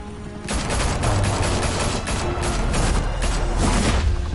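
Sustained rapid gunfire erupts loudly in the Batman Telltale Series video game, a dense unbroken volley of shots that begins abruptly and continues to the end.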